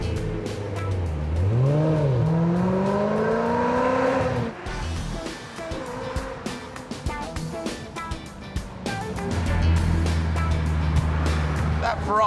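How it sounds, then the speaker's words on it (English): A Ferrari 348 V8 engine revs hard and swoops up and down in pitch, then sounds under acceleration with some tire noise. It is loud and close, and a voice talks over parts of it. "That Ferrari V8 is awesome, isn't it?"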